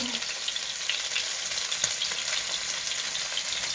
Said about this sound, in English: Be cautious of the oil popping up.